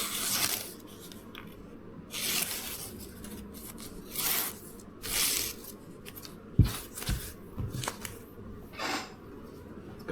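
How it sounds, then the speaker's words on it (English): Paper being sliced with an IKEA Fjällröding Japanese-inspired kitchen knife, heard as a series of short, crisp rasping cuts in bursts with brief pauses, close and moderately loud, with a few sharper taps near the end. "Cut some more paper."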